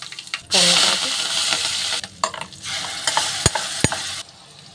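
Mustard seeds, cumin, chana dal, dried red chilies, asafoetida and curry leaves hit hot oil in a tempering for chukka kura pachadi, bursting into a loud sizzle that settles into steady frying crackle with sharp pops and spatters near the end.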